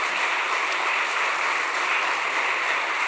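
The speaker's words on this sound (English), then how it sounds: "So we'd like to have a big round of applause for them," Steady audience applause fills a hall at a devotional talk show, a dense, even wash of many hands clapping together without a break, with no voices heard over it.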